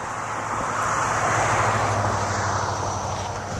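A noisy car passing by a cemetery, a steady rushing engine and road roar that swells and fades slightly, fairly close and alone without talk.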